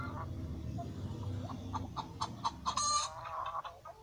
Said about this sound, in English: Hen sound is clucking.